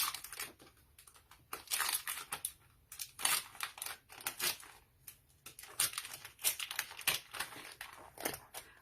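Scissors snip through a paper craft transfer for Chalk Couture Easter home decor, a steady series of sharp close clips and crinkles with short pauses between bursts and no talking.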